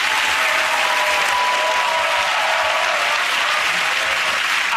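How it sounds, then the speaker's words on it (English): A television studio audience breaks into a sustained, dense round of applause, steady and loud throughout with no talking over it. "OK, here's that round of applause"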